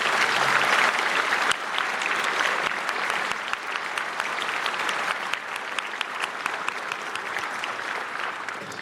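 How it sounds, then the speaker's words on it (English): An audience at a high school class night ceremony gives sustained applause, a dense, even wash of many hands clapping, steady and moderately distant, with no talking over it. "Audience, please join me in extending gratitude and respect with a round of applause for these outstanding community members."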